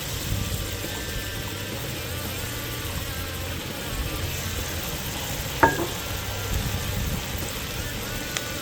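Onion sizzling in melted butter in a pot over a campfire, a steady close crackle and hiss throughout with one sharp click partway through.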